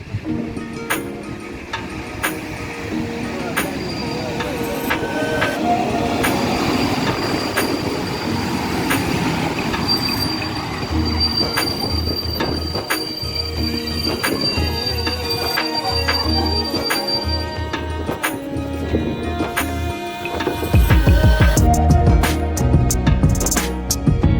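An intercity train hauled by an EP07 electric locomotive rolling into Stary Sącz station, Poland, wheels rumbling and squealing with a sustained metallic whine, clattering louder and heavier near the end.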